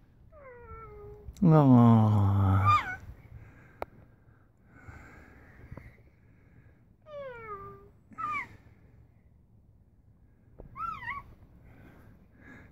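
A kitten gives repeated meows, one long loud cry near the start followed by several shorter, softer mews spaced out over the rest, with a person speaking briefly and gently between them.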